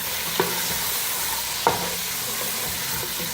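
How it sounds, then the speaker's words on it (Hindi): Around 500 grams of chicken fries in a pan with a steady sizzle, and two sharp scrapes of a spoon stirring the pieces stand out above the hiss. "चिकन को थोड़ा सा फ्राई करेंगे"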